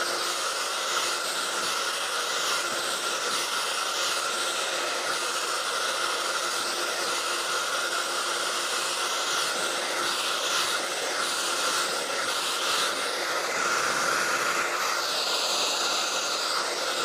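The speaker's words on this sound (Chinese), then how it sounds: "偏分的刘海呢，你要把它前面吹翘起来啊" A hair dryer blowing side-swept bangs gives a loud, continuous close-up rushing hiss for the whole stretch, with slight shifts in tone as the airflow moves and no voices.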